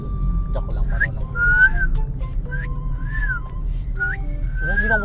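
A person whistles a series of short rising and sliding notes against a low background hum, with brief pauses between phrases and a faint voice near the end.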